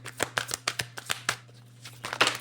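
Playing cards shuffled and riffled during a tarot-style card reading, a quick series of crisp papery bursts, close and fairly quiet, with a steady low hum underneath and no talking.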